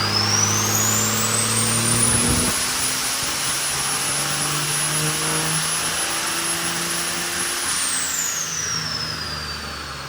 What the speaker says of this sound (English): time to test the first turbo. This is the 6771 HX-based turbo from Greg Turner